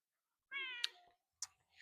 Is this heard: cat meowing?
yes